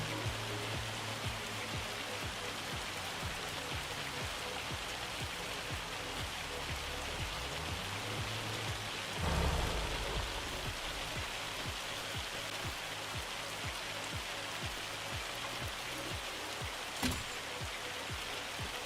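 Steady dense hail drumming down in Farming Simulator 25, a constant hissing patter with no pause across the whole stretch, broken only by a brief low thud midway and a sharp tick near the end, with no talking.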